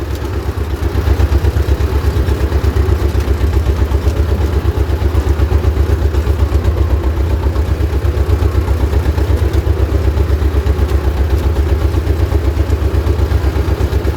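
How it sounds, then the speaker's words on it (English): A cotton tractor, a T16m, runs loud and close with a steady, rapid chugging and rattling clatter, holding constant throughout. "this one is a very good cotton tractor"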